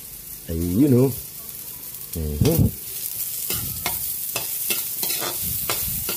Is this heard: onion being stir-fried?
yes